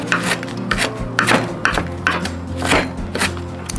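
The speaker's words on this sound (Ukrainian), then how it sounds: "Ну і вже цю петрушку дрібненько нарізаю." A knife finely chops parsley steadily on a board, quick rhythmic taps close by with a faint scraping, no talking.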